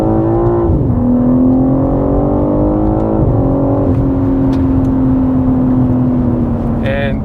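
A BMW G80 M3 Competition engine drones loudly and steadily, its pitch dropping sharply around a second in and again midway as pedal-shifted downshifts blip through, continuing under a voice.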